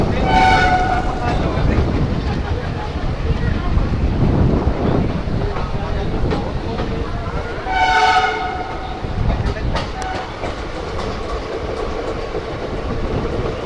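Haridwar–Shri Ganganagar Intercity Express pulling out of Jagadhri station on an electrified line, with two blasts of the train horn, one at the start and one midway, over rumbling wheels and steady wind buffeting the microphone.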